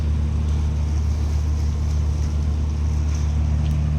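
Steady low mechanical drone of a pump moving fresh water from a tanker onto a ship, a continuous close hum with broadband wash and no pauses.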